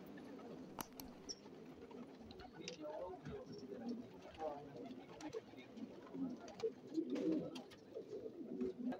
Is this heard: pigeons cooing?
yes